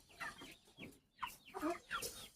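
A chicken clucks in a short run of repeated calls, fairly close and moderately loud, with a quiet yard in the background and no talking.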